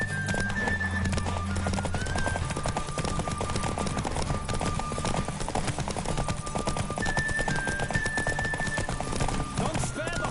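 Galloping horse hooves clip-clop at a steady driving rhythm during a Witcher 3 horse race, with occasional neighs and whinnies over continuous game music and ambience, while a voice speaks briefly.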